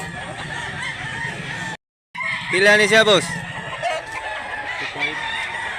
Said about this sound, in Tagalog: Napakagandang manok.